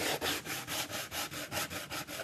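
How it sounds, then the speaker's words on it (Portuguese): Coarse 60-grit sandpaper rubbed hard back and forth over a wooden slatted planter to distress it for a rustic patina, giving steady rhythmic scratchy strokes, about four per second, close and loud with no talking. "aqui eu vou dar um bom desgaste com a lixa bem grossa"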